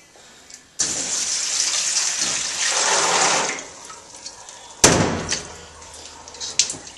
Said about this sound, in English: So we're going to take it over to the sink now, dump it into a colander that we have ready.